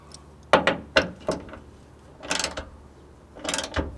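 Bolt being tightened on a hood strut bracket of a third-generation Toyota Tacoma: a few sharp metallic clicks, then two brief rasping ratchet bursts, close and moderately loud with quiet gaps between.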